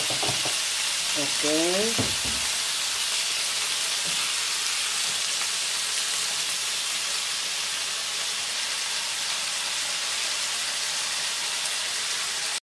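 Food sizzling steadily in a hot frying pan, half-fried and nearly done, a dense continuous crackle close by, with a short spoken word near the start and a brief clunk at the very end.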